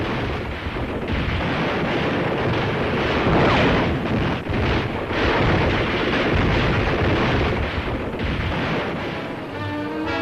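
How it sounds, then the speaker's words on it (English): WWII tank and artillery gunfire in the North Africa battle for Tunisia, heard as a continuous roar of booming blasts and rumbling explosions on a worn newsreel soundtrack, loud and dense with repeated heavy thuds. "Here they fight it out gun to gun and tank to tank"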